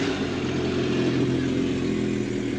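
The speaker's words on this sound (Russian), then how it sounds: "Сузуки. Первый запуск мотора. Новый." A new Suzuki outboard motor on a water-jet boat, started for the first time, runs at a steady low idle with an even rumbling drone, close and continuous with no talk.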